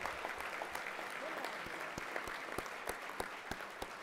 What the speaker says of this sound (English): about seven interruptions for applause